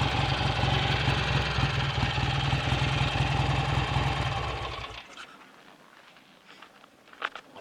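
A BSA A65 Thunderbolt motorcycle engine running steadily for about five seconds with a dense, throbbing twin-cylinder burble up close, then cutting out, leaving quiet handling noises and a few clicks.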